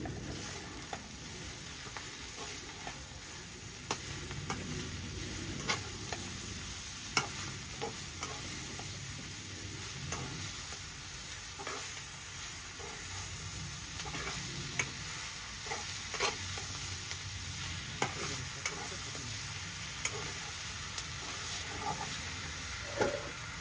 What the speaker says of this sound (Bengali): পেঁয়াজগুলো আমি ভালো করে ভাজে নিয়েছি, এখন আমি শাকগুলো দিতেছি।